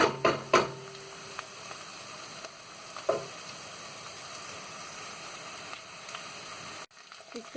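Garlic paste hitting softened onions in a pan for aloo gobi, sizzling steadily, with a few sharp clatters of stirring at the start and partway through, then a soft fading hiss.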